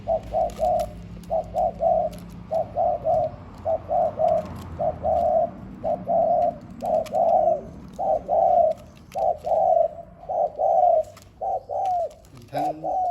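Decoy dove cooing almost nonstop, a close, clear series of soft rhythmic coo phrases repeating in short bursts with brief pauses, with faint background noise and no talk.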